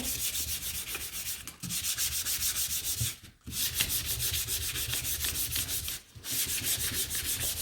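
Sandpaper rubs back and forth across the front of a wooden shiplap shamrock, giving close, loud, raspy strokes in steady rhythm broken by three brief pauses, with no speech.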